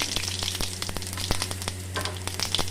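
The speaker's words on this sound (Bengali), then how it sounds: "গরম হয়ে গেছে, এর মধ্যে আমি গোটা জিরে আর তেজপাতা দিয়ে দেবো" Whole cumin seeds and bay leaves sizzle in hot oil in a heated wok, a steady crackling hiss broken by sharp pops and a few stirring clicks, close and with no talking.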